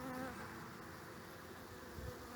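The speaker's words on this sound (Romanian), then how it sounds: "Sunt pline de albine." Honeybees crowd the frames of an open hive, producing a dense, steady buzzing drone, close but fairly quiet, with no voices.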